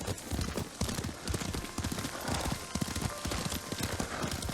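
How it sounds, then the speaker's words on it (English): Horse hooves clip-clopping at a steady riding pace in a video game, a dense, continuous patter of hoof beats set in a busy, noisy game soundscape, moderately close with no speech. "Lord Sakai taught me to ride a horse."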